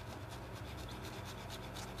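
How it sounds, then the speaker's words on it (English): A sharp No. 11 hobby blade slices through a foam insert for an RC truck tire, giving a steady, close rasping scrape that runs without a break the whole time. "get your number 11 blade, your nice sharp hobby blade, and about a 45 degree angle, just roll it around"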